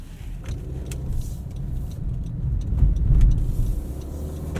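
Steady low road rumble and tire noise inside a moving 2020 Honda CR-V Touring AWD, a continuous cabin drone that swells slightly midway, with no talking.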